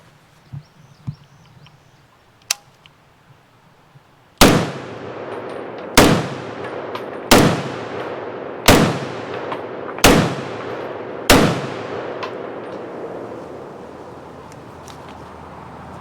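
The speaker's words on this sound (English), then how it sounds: "first shots through the MCX spear" Six loud, sharp gunshots from a SIG Sauer MCX Spear rifle fired off a brace, spaced about one and a half seconds apart, each with a ringing decay. A few faint clicks come before the first shot.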